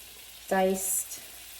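Butter melting in a pan for a steak and broccoli stir fry gives a brief, quiet sizzle, with a short voiced sound in the middle.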